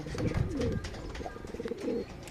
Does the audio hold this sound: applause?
no